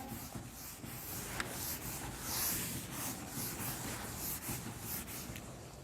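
Writing being rubbed off a classroom board with a duster, a faint scratchy swishing of several strokes, soft and close, with no talk.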